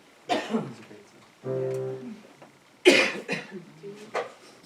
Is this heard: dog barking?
no